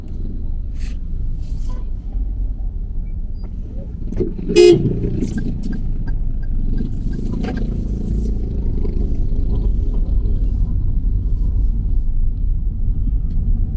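Slow street traffic with jeepneys on the way to Muzon, a steady engine rumble heard from inside a vehicle, broken by one short car horn toot, with light clatter and occasional voices.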